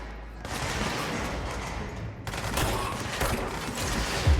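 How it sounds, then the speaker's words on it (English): Gunfire from the video game Control comes as dense, loud rapid-fire bursts that run nearly continuously, with a short break partway through before the shooting resumes. "Who's shooting at me?"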